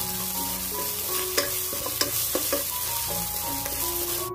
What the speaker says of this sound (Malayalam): ഇഞ്ചിയുടെയും വെളുത്തുള്ളിയുടെയൊക്കെ പച്ചമണം മാറുന്നവരെ നമ്മൾ ഇതുപോലെ ഒന്ന് വഴറ്റി കൊടുക്കണം